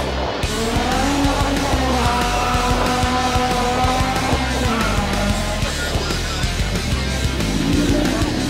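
A Nissan GT-R R35 race car drives hard on a track, engine roaring loudly and continuously while its tires squeal and skid through the corners, with no talk.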